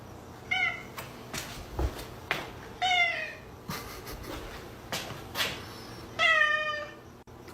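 A pet cat meows several times in short, rising calls spread across the stretch, fairly close and clear, with quiet room noise between them and no talk.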